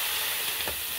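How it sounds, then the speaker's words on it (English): Steady close-up sizzling of a burger patty frying on a hot griddle, a constant crackling hiss with a faint scrape midway. "then just let it sizzle for a little bit"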